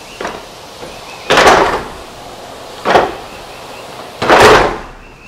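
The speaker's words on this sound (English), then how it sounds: "You have these doors, sliding doors that open" Sliding glass doors in the master bedroom of a luxury house open onto a balcony. Four separate rolling, rumbling slides sound up close, two short and two longer, with quiet gaps.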